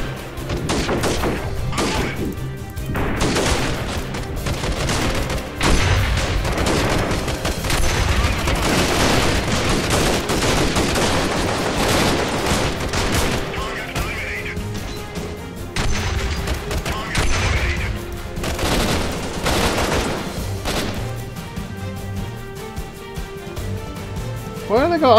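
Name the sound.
gunfire and grenade explosions in video game Freeman: Guerrilla Warfare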